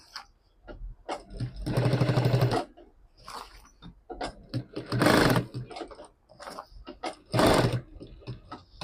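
A sewing machine stitches fabric for a diaper-style travel bag in bursts of rapid whirring, three longer runs separated by short stops and clicks, close and clear with no talk.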